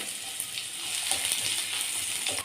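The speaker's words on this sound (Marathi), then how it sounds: "एक मोठा कांदा बारीक कापून घेतला आहे तो घालूयात" Finely chopped onion goes into hot oil tempered with mustard seeds for a mixed vegetable dish. A bright, steady sizzle with fine crackling rises quickly and stays loud and close throughout.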